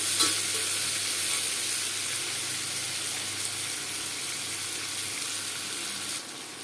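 Torn green chili dropped into onions frying in a pan for a jackfruit curry, giving a steady close sizzle with light stirring that runs evenly throughout and fades slightly at the end.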